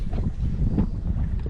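Steady, rumbling wind noise buffets the microphone outdoors on the Gulf coast of Central Florida ahead of a big storm, a continuous low roar with no talk over it.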